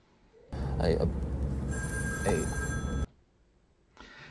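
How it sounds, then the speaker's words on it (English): A telephone rings in a room during a recorded interview with someone, a brief tonal ringing that mixes with people talking. "when he hears the phone ring"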